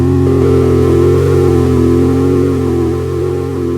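Prophet-5 synthesizer producing a dirty, white-noise-laced tone, a steady buzzy drone with a gritty hiss held for a few seconds, loud and alone.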